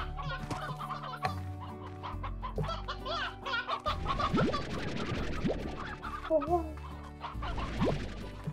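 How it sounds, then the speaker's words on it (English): Chickens cluck and squawk in the video game Slime Rancher, a busy, fairly loud flurry of fowl calls layered over a steady synthetic game soundtrack, with brief crashing bursts mixed in. "Those chickens just got fucking annihilated."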